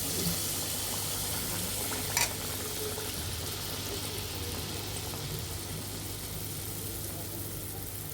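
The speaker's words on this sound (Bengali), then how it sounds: "আমাদের তেলটা গরম হয়ে গিয়েছে এখন আমরা এভাবে দিয়ে দিব" Egg pitha batter frying in hot oil, a steady close crackling sizzle with one brief sharper pop early on, continuous and heard alone without talk.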